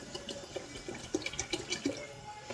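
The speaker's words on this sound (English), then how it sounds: "I'm gonna add the balance of this water in" Water pours steadily from a container into carrot juice, a soft continuous splash with small gurgles and drips, fairly quiet and with no voices.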